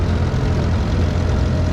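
A D17 tractor engine runs steadily in a tractor parade, a loud, close, low rumbling drone without pause or voices.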